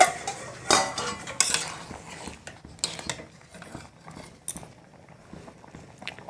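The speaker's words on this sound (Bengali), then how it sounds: "এখন ঢাকাটা খুলছি।" A metal lid lifted off a pot of simmering mung dal with papaya, a few sharp close clanks and scrapes of metal on metal followed by softer rattles and taps, no talk.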